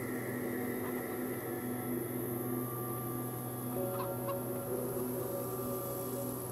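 Chickens cluck softly in the video game Minute of Islands, a few faint calls set within a steady humming ambient background.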